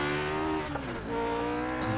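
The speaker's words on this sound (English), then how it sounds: "I think it's a Cosworth engine in the back." A Lotus 49 with its rear-mounted Cosworth engine screams in the iRacing simulator, a continuous high-revving engine note with shifting pitch and a brief dip as the car works through a corner.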